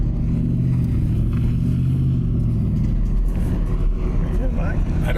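A deep custom truck engine rumbles steadily nearby, a heavy low drone that shifts slightly in pitch toward the end.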